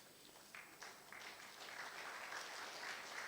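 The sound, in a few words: audience applause at conference session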